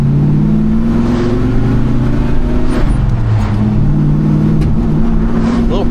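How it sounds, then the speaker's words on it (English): Engine revving steadily around half throttle with small intermittent popping from the carburetor as it sucks air, a loud continuous mid-range drone with slight pitch swells and no talking. "Little pops from the carb."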